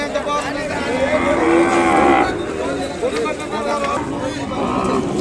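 Cattle moo repeatedly at a busy calf market, several loud drawn-out calls close by over a constant crowd babble and voices.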